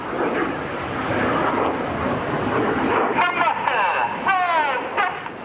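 Loud broad roar of a Red Arrows jet sweeping overhead at an airshow display, a rising and falling rush with a thin tonal whine, crowd noise faintly underneath.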